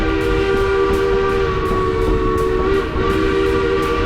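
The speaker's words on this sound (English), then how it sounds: "You can hear the whistle going off at each level grade crossing" A Durango and Silverton narrow gauge train sounds its whistle at a level grade crossing, a loud, steady multi-tone blast held for several seconds over the rumble of the moving train.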